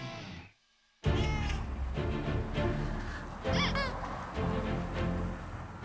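A stray cat meows repeatedly and loudly up close, its calls rising and falling against a busy, noisy background after a short quiet gap.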